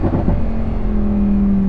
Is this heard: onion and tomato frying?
no